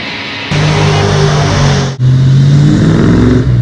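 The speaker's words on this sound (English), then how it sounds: "It's got a supercharged 1500 Rotax in it" A jetboat powered by a supercharged 1500 Rotax four-stroke engine revs hard and loud, roaring up sharply, dipping briefly, then surging again close by.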